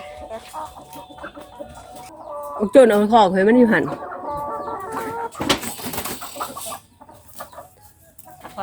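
Chickens cluck loudly at close range on a farm, a burst of clucking and squawking with a louder flurry near the middle, while someone talks over it.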